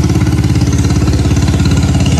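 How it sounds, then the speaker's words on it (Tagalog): Motorboat engine on a river chugs loudly and close with a fast, steady pulsing rhythm, alone without voices. "May dadaan pong bangkang di motor."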